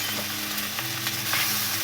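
Masala frying in a pan with turmeric stirred in, a steady close sizzle with faint scraping of the spoon, no voices.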